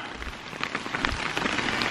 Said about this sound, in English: All the rain from up the driveway is hitting this little spot and kicking off over here.